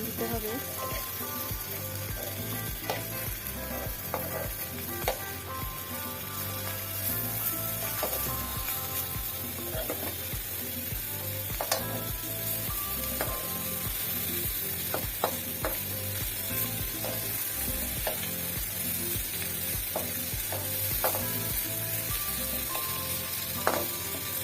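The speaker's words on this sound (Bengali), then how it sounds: "কড়াইতে একটু লবণ দিয়ে চাপা শুটকিগুলো ভেজে নিব।" Chepa dried fish fries with salt in a pan, giving a loud, steady sizzle throughout with frequent scraping and stirring clicks from a utensil.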